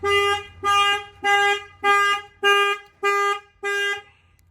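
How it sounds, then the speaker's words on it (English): A 2020 Toyota Tacoma car alarm blares in seven evenly spaced, loud harmonic honks, each lasting about half a second, with no voices. "If anybody bangs on any of the windows or open any of the doors, the alarm will fire off"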